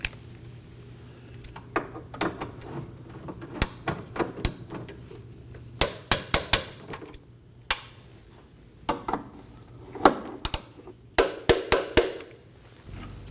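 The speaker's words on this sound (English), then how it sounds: "We're going to torque these down to 30 foot-pounds each." Bolts on the fuel tank straps of a 2015-2023 Nissan Maxima 3.5L V6 being torqued to 30 foot-pounds, heard as scattered sharp metallic clicks and ratchet ticks in irregular bursts, close by with no talk.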